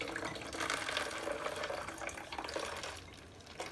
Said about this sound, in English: we're going to pour some fresh sodium hydroxide into it